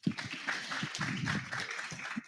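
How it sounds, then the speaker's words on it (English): A short burst of scattered applause, a crowd clapping unevenly at moderate volume. "Round of applause for Emmanuel."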